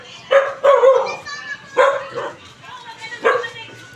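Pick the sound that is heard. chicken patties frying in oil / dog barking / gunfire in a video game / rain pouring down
dog barking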